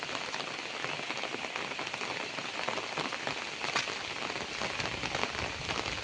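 Steady rain in the Konkan countryside pours down without a break, a dense even hiss of drops drumming on surfaces nearby, with no voices.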